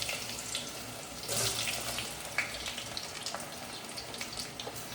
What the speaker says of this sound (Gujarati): એકવાર પાણી ધોઈ નાખવાનું.